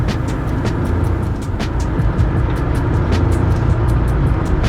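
An old, partly broken classic car driving with its engine running, a loud steady low rumble and road noise throughout, with faint regular ticking above it, close and continuous with no talking.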